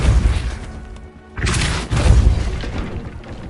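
A Depulso spell cast in a Harry Potter video game gives two heavy, booming blasts with a shattering crash, each breaking in sharply after a brief lull. The impacts are loud and close.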